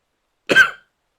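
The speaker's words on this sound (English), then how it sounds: "That was me coughing on Nero's bullshit" One short, sharp cough from a commentator during a Final Fantasy XIV playthrough, close to the microphone and isolated in silence.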